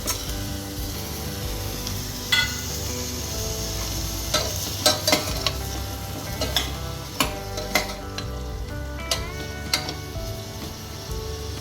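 Peeled, cut sweet potato pieces fry in a pan with a continuous close sizzle, punctuated by occasional sharp stirring clicks and scrapes of a utensil.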